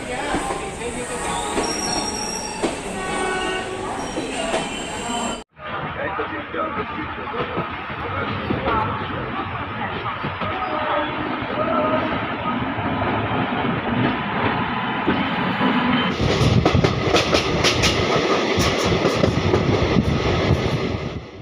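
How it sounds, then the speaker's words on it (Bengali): Ganadevata Express train (13017) rolling along the rails after departing the station, a steady loud rumble and clatter of wheels on track with metallic squeal and rattle building toward the end, with a brief cut partway through. "ট্রেন আমাদের ছেড়ে দিয়েছে Ganadevata express one three zero one seven"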